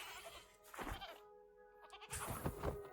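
A sheep bleats in Hogwarts Legacy, a couple of close wavering calls separated by a brief pause, fairly quiet with no talk over them.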